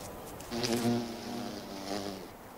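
A female bee buzzing close by, a steady insect hum that swells louder midway and then fades slightly, with no voices.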